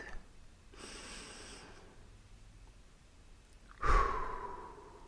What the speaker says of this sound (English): I want you to take one deep breath